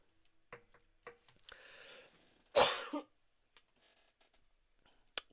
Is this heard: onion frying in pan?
no